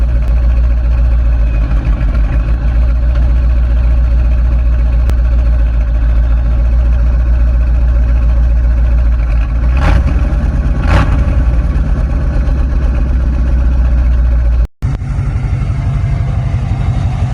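A 1987 Ford F-250 truck engine idles steadily at close range with a constant low rumble throughout, broken by a couple of brief knocks and a short dropout near the end.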